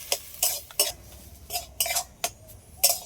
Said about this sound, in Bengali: আবারও সবগুলো একসাথে একটু ভালো করে একটু ভেজে নেব।